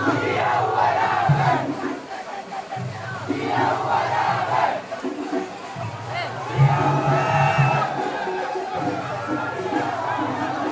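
A festive crowd at a temple gate roars and cheers for the elephant Oottoli Raman, layered shouts and battle-cry whoops rising and falling in waves with dense chatter beneath.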